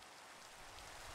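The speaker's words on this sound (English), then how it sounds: "Oh, rain. Lovely, lovely rain." Rain falls in Minecraft, played with the SevTech: Ages modpack, as a very faint, steady hiss of rainfall with no talking and no other sounds.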